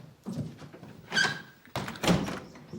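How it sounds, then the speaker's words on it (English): A door creaks and is pushed shut with a solid thunk in a homestead drama scene, two close knocks of wood following a short squeak. "Close the door."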